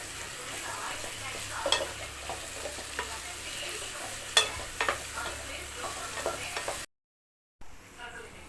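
Okra sautéed and tossed in a dry pan, a continuous dry crackling sizzle with irregular scrapes of the spatula, close and moderately loud, cutting briefly to silence before the frying resumes more faintly.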